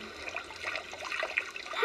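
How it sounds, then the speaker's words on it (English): Steady rushing and splashing water from a waterfall, a continuous moderate wash of sound with no voices. "Oh, what a lovely waterfall."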